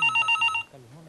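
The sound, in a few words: telephone ringing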